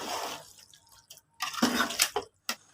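Water poured into a pot of Bangalore-style chicken biryani, heard as a few short splashing pours and drips, close and fairly loud, with quiet gaps between them.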